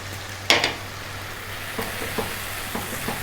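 Ginger garlic paste is stirred into a sizzling Indian restaurant-style lamb curry base in a pan, with a sharp scrape near the start and a few softer stirring knocks over a steady, close frying hiss.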